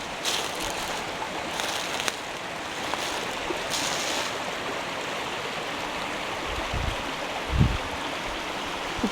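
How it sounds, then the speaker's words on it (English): Water trickles and splashes off a rock face outdoors at Elliot Lake in springtime, a steady broad rushing wash with a few faint low knocks, heard at some distance with no talk. "A bit of water dripping off that rock up there."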